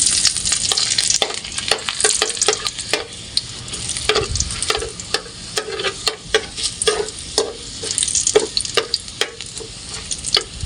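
Chopped garlic sizzles steadily in hot oil in a wok, with loud spitting crackles and repeated scraping stir strokes punctuating the continuous frying hiss, no voices.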